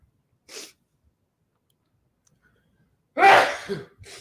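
A single sharp sneeze bursts out close and loud after a short faint breath and a stretch of quiet.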